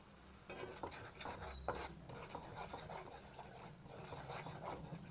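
Dry turmeric, coriander and chili powder masala being stirred in a pan for a restaurant-style paneer and spinach dish, with steady scraping strokes and a low sizzle close by, no voices.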